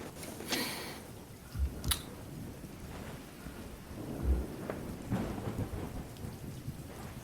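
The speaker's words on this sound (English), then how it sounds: "he looks out into the thunderstorming rain" A thunderstorm with steady rain hissing on surfaces, broken by several low thunder rumbles and a few sharper cracks, heard alone without talk.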